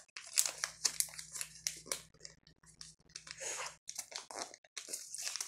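Origami paper folded side over side while shaping a ninja star, a near run of crinkles, crisp rustles and snappy creases in uneven bursts with brief pauses, a low steady hum beneath.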